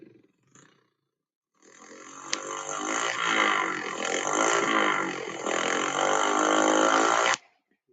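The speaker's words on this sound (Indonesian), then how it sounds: "Itu adalah suara dari knalpot." A loud, continuous engine roar from an exhaust, holding steady for about five seconds before cutting off abruptly.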